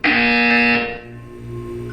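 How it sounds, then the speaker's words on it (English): A loud, harsh electronic buzzer from the Portal 2 video game blares steadily for about three quarters of a second, then drops to a quieter lingering tone, with no voices. "You will hear a buzzer."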